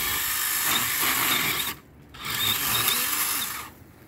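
A DeWalt cordless hedge trimmer cuts through branches with a steady, close buzzing whir, stopping briefly for a moment in the middle before running again and trailing off.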